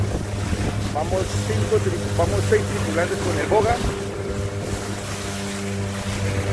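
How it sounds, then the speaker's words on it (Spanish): A Parsun 15 hp long-shaft outboard motor drives a large fishing boat at about half throttle on the Colombian Pacific, a steady droning hum with wind and water noise as someone talks over it. "Aquí tienen al Parsun 15. En plena faena de pesca, moviendo una lancha grande."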